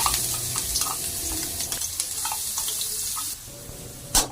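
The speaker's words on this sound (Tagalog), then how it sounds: "May kasamang sardinas. Igigisa natin." Sardines sizzle while being sautéed in a pan, a steady frying hiss with light stirring, then the sizzle cuts out and a short clatter follows at the end.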